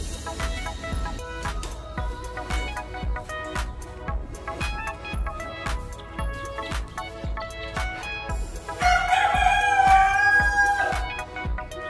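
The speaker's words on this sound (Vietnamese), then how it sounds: "Gà nhà nó bé xong rồi cứ con đầu đàn ấy là nó gáy sớm." A young northern mini bantam rooster, about three months old, crows loudly near the end, with a lively strained call heard over steady background noise and scattered clucking from a small backyard flock.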